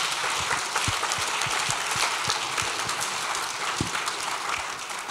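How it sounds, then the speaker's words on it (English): Opera audience applauding a costume designer at San Francisco Opera, sustained crowd clapping with a few sharper individual claps standing out, loud and continuous throughout. "Let's applaud Rita Ryack."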